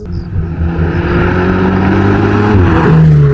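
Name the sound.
Ferrari supercar engine accelerating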